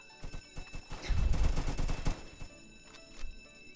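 Rapid bursts of gunfire in Roblox Jailbreak during a cop shootout, a rattling string of shots peaking in the middle and tapering into a few scattered later shots, fairly quiet in the mix.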